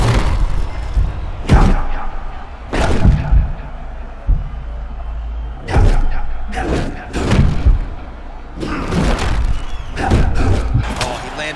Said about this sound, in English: Landed a beautiful straight punch there, DC.